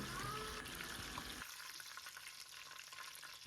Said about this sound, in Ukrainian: налила туди олії, довела до кипіння, занурила туди курячі котлетки, обсмажила до золотистого кольору